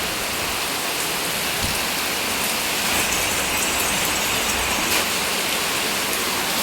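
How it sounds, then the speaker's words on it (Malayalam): Heavy rain pouring down in a dense, unbroken roar of close, loud drops hitting surfaces, steady for several seconds with no voices. "ഒടുക്കത്തെ മഴയായി പോയി"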